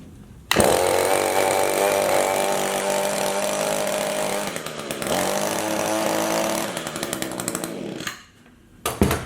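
An Echo HC 152 hedge trimmer starts up with a sudden loud burst, then its small two-stroke engine buzzes steadily as the blades move for about eight seconds, dropping briefly near the end before revving again.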